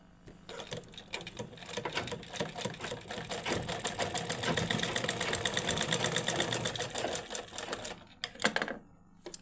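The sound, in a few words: sewing machine stitching around a latkan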